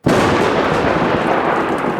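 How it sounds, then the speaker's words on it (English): A thunder sound effect with lightning: a sudden loud crack swells into a dense, rumbling roar that sustains at full strength for two seconds without fading. "We have some lightning,"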